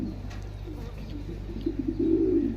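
A strong, active male pigeon coos close by, a low throaty call that swells and grows louder toward the end, over a steady low hum.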